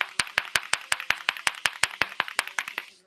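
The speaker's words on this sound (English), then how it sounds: "You want to hear some more clapping?" About seventeen sharp, close handclaps from one person on a live sports talk show, in a steady, even rhythm with nothing else around them.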